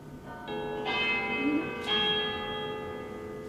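A church bell tolls the hour, two resonant strikes a second apart, each ringing out in long humming overtones that slowly decay.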